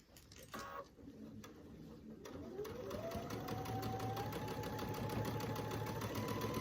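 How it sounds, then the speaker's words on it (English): A sewing machine stitching the binding of an heirloom quilt top at a quarter inch, starting with a few clicks and handling noises, then settling into a steady, close, whirring hum with a rapid needle rhythm. "I'm going to keep stitching this at a 1/4 inch."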